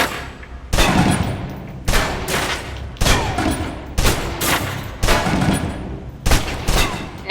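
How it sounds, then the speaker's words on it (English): Submachine gun in the video game Alpha Protocol emptying its magazine in loud, close bursts of rapid fire. There are about six bursts separated by short pauses, with no talk. "Now, let's move on to the submachine gun. Now let's empty the clip."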